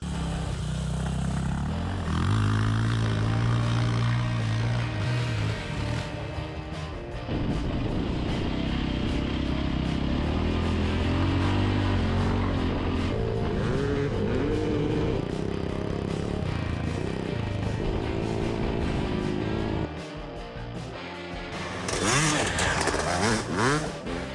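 A Voge 300 Rally motorcycle rides off-road through mud and mine sand, its engine droning steadily and close for most of the stretch, with revving surges and a brief drop near the end before it picks up again.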